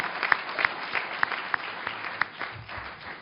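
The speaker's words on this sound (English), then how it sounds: "I want one more round of applause for the other 4 candidates" Audience at a Boys and Girls Clubs event applauds, a short burst of scattered clapping at moderate distance, fading toward the end.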